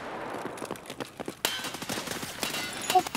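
Rapid gunfire rings out in a Fortnite match, sharp cracking shots scattered across the moment with a louder burst midway, close and overlapping.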